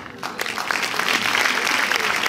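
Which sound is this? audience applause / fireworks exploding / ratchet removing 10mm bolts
audience applause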